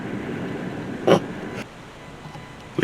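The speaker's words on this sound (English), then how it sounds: "It's windy." Strong outdoor wind gusts rumble and buffet the microphone steadily, with a brief louder burst partway through, close and unbroken, with no talking.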